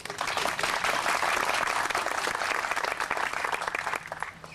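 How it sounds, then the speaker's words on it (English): An audience at the Blair Museum opening in 2002 applauds Councilman Luis Escobar, a burst of lively, close clapping that stays strong for a few seconds and then thins out and tapers toward the end. "Give him a round of applause for"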